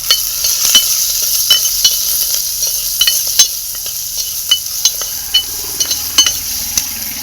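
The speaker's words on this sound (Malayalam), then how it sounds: "നല്ലോണം ഒന്ന് വഴറ്റി കെട്ടണം കേട്ടോ മുളക്" Green chillies and salt sauté in a pan for a Kerala-style chilli curry, giving a steady sizzle broken by regular clinks and scrapes of a spoon stirring against the metal.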